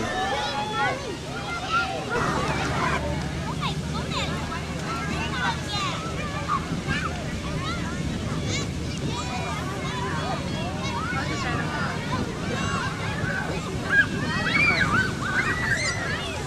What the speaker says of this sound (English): Just chilling at the beach.